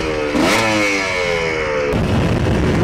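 Small two-stroke GR7 2T Optimum motorcycle engine revs up sharply, holds a rising buzzing pitch for about a second and a half during gentle break-in riding, then drops back to a rough, clattering idle.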